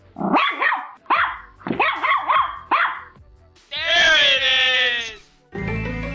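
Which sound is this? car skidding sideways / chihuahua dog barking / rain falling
chihuahua dog barking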